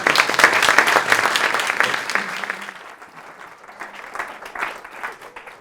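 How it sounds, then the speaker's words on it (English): An audience claps warmly for a speaker introduced at a talk, loud dense applause at first that gradually thins and fades to scattered claps. "give a fantastic round of applause for this remarkable man, Bill Albrecht."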